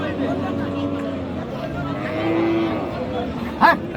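A cow lets out a low moo over the steady chatter of a crowd at the Aftabganj cattle market, with a brief sharper sound near the end.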